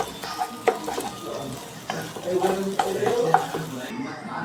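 Egg frying in hot oil in a pan makes a continuous sizzle, broken by sharp clicks and scrapes from a stirring utensil.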